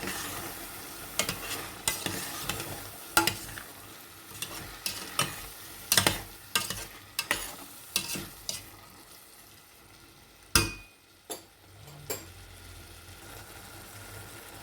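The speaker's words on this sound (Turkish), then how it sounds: "Kuru bamyalarımı da ilave ediyorum haşladığım." Boiled dried okra frying and being stirred in a pan, a quiet sizzle under a series of distinct spoon scrapes and knocks against the pan, with a louder clatter near the end.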